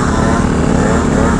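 A two-stroke Yamaha Vino scooter engine drones steadily and loudly among other scooters at a city ride-out, with a continuous buzzing tone throughout.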